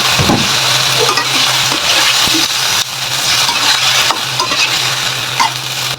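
Pork and winged beans stir-fried in a hot pan, a loud close sizzle with a steady hum beneath and repeated scraping strokes of a spatula, no voices.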